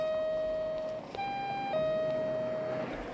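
A house doorbell in Chile rings as an electronic chime of sustained tones, the pitch stepping up and then back down, fairly faint over a low background hum.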